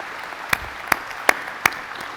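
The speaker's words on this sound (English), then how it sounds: "Give these people a large round of applause" Four separate sharp claps spaced evenly at an annual meeting and member celebration, crisp and close against a quiet room, where the audience is applauding foundation board members.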